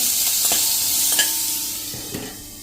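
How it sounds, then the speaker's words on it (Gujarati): Chopped onions frying in a pan on a low gas flame for a bitter gourd curry, a steady close sizzle with a few soft stirring scrapes, alone. "અને ગેસની ફ્લેમ સ્લો રાખી અને કાંદાને આપણે થોડાક કૂક કરી લેશું ઢાંકીને."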